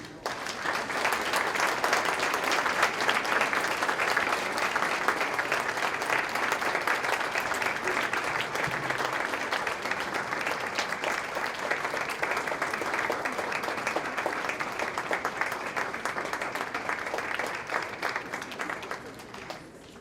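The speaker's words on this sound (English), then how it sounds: "With a round of applause, please." Conference audience at a mental health conference applauds as the Deputy President of South Africa is welcomed, sustained dense clapping from a large hall that holds steady for about twenty seconds and tapers slightly at the end.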